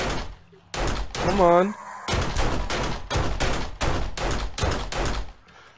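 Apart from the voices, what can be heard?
pistol gunfire in video game 7 Days to Die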